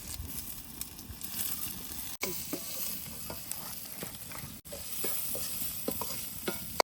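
Curry leaves frying and being stirred in hot oil, a steady moderate sizzle broken by repeated spatula scrapes and taps, with two brief dropouts in the middle.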